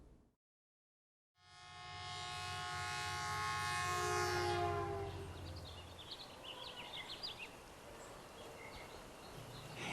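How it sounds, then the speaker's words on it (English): Garden railroad model locomotive sounding its horn: after a short silence a long, loud, steady horn blast holds for a few seconds and then fades into faint outdoor background noise with light chirps. "If you look over on the track there is a locomotive that I did last weekend"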